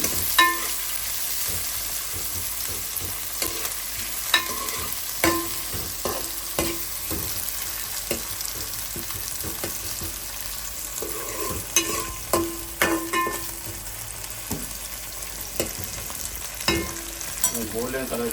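Onions sizzle in a pan as they fry toward golden for a spinach mutton curry, under repeated scraping strokes of a spoon stirring them, close and steady throughout.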